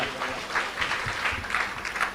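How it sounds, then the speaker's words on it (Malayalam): Congregation clapping in thanks to the Lord, a steady spread of hand claps of moderate loudness filling the room, alone with no voices. "കൈയടിച്ച് കർത്താവിന് നന്ദി പറയാം"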